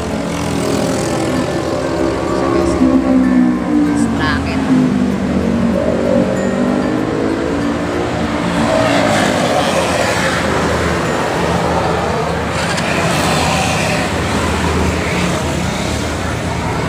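Honda Wave 100 motorcycle engine with a freshly painted crankcase idling and revving steadily, a continuous close mechanical drone with rising and falling pitch through the whole stretch, no talk over it.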